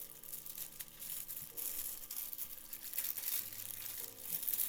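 Plastic packaging from a Transformers Devastation Optimus Prime toy is torn and crumpled up close, a quiet continuous crackling and crinkling with occasional sharper rips.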